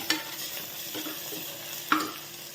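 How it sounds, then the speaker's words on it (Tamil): A spoon scraping and stirring mutton spice powder in a frying pan, with a few sharp clinks against the metal and a soft sizzle in between. "போட்டு நல்லா கிண்டிக்கோங்க"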